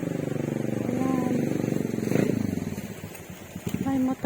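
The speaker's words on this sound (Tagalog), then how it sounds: "May motor. Maakyat." A motorcycle engine hums steadily under someone talking outdoors near a river, its drone fairly close and continuous, with brief crackles and a voice rising near the end.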